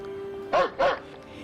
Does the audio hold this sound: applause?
no